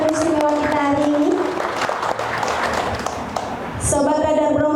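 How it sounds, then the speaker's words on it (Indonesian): An audience applauds three special guests at a talk-show event on women's empowerment; dense clapping fills the stretch beneath a voice speaking at the start and end. "Kita berikan tepuk tangan untuk ketiga tamu istimewa kita hari ini."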